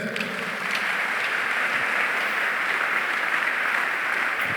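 A church congregation applauds at a Congolese pastor's service, a steady, dense wash of clapping and cheering from many hands that stays loud and even throughout.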